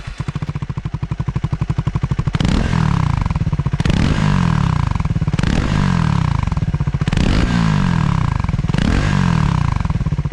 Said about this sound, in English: The Scrambler sounds good.